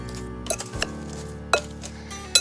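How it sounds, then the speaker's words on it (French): Apples tossed with cornstarch and cinnamon in a bowl for a rustic apple tart, giving a few scattered clinks and scrapes of a utensil against the bowl over a low steady hum. "Je vais maintenant mélanger le tout pour bien enrober les pommes avec la fécule et la cannelle."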